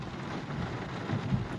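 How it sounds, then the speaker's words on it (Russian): A heavy downpour in Ryazan makes a continuous broad wash of rain drumming on a car, with a couple of slightly heavier patters near the end. "Ну, дождик прям капитальный."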